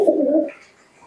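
A large female deshi Giribaz pigeon gives a single short, close coo lasting about half a second before fading to quiet.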